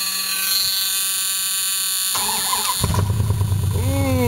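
A Dodge Ram truck starts on a cold, snowy day: a steady warning chime plays, then the engine cranks and catches into a close, rumbling idle.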